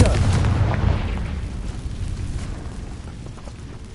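Confringo explosive spell in Hogwarts Legacy, a single fiery burst at the start that rumbles and fades out over a few seconds.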